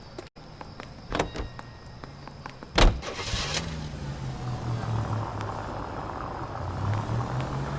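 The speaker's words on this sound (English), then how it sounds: "Nice car, Roy. Is it department issue?" A car engine in the video game L.A. Noire idles and then revs, with a sharp thump like a door partway through, followed by a steady, rising motor drone that carries on alone.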